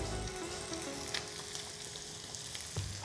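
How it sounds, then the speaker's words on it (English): Turkey bacon and breakfast sausage sizzle steadily in a hot pan, a dense, continuous crackling fry with small pops scattered throughout and no voices. "And your turkey bacon is sizzling"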